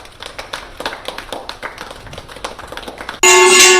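Scattered hand clapping outdoors outside a home during India's Janta Curfew, a string of sharp irregular claps at moderate distance, ending in a sudden loud bright ringing clang, like a metal plate being struck.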